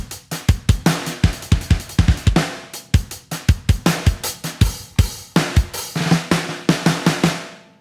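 Programmed drum beat with punchy kicks and snares, softened hi-hats and ghost notes pushed louder, forming a busy, humanized groove that plays loud and up front with no voices.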